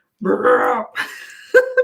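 A person's voice imitates a dog's loud belch, a drawn-out throaty croak followed by shorter vocal bursts, close and loud against silence.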